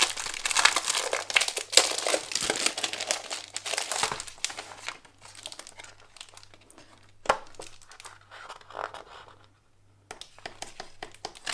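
Thin holographic foil sheets crinkle and rustle as they are handled close by, loud and busy at first, then quieter with occasional crisp crackles.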